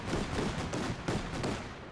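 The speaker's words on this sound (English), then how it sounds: "It's flak cannon." Flak cannon fire in a World War II strategy video game, a dense, continuous burst of overlapping shots and blasts that stays loud for the whole stretch, with no voices over it.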